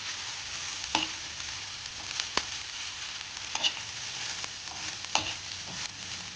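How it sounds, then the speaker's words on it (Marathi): Sliced medium onions sautéed in hot oil in a pan for Malvani chicken, a steady soft frying hiss broken by several sharp spatula taps and scrapes, close by and without speech. "त्यात दोन मिडियम आकारांचे स्लाईस केलेले कांदे परतून घ्यायचे आहे"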